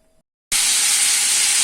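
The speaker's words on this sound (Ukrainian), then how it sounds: "Ось так смажиться наше м'ясо." A sudden loud, steady sizzle bursts in after a brief quiet moment, hissing continuously like meat frying in a hot pan.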